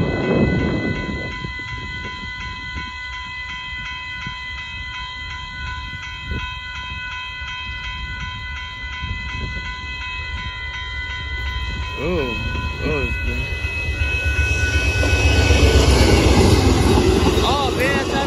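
Amtrak Texas Eagle passenger train and a BNSF freight train passing each other at a crossing, with steady loud rail rumble, clatter and rising wheel squeal toward the end, plus some talk nearby.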